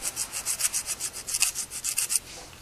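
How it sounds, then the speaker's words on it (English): Sandpaper rubbing paint off the metal hot shoe rail of a Sony a6000 flash, a close, steady series of rapid back-and-forth scratchy strokes, about a dozen in quick rhythm, then stopping. "all I'm doing is sanding between the spring and the rail itself until the paint's gone"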